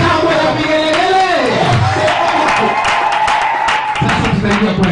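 Congregation at a Sunday church service letting out ululations and cheers, a dense wash of voices with rising, wavering trills over a noisy, loud hall sound, continuous for the whole stretch.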